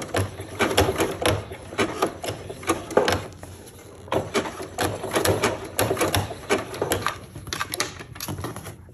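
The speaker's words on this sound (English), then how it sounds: "You let your sewing machine do the work" A sewing machine stitches in rapid rattling bursts, starting and stopping several times, close and fairly loud.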